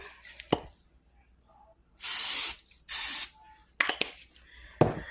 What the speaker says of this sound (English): So let's give her a quick little spray